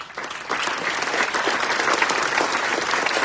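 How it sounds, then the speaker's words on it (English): Sustained applause from a seated audience honouring platinum sponsors BSG and Common Heart, a dense, steady wash of many hands clapping that swells after a brief start and holds evenly throughout. "if we could give them a round of applause"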